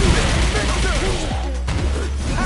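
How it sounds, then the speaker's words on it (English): Street Fighter 6 gameplay during a whirlwind attack in the final round of a match, dense rapid impact and crash effects in quick succession, loud and busy, with swooping tonal game sounds mixed in. "Fires off a whirlwind."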